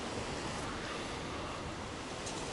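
A small waterfall spilling over the remains of an old dam in the taiga makes a dense, steady broadband rush of falling water, continuous and fairly close with no pauses.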